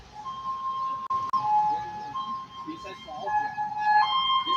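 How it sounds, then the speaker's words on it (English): An ambulance siren wails somewhere in Thailand as it drives past, its wavering tone rising and falling under steady nearby talk and background noise, moderately distant rather than close. "I see an ambulance in Thailand driving by with its sirens on"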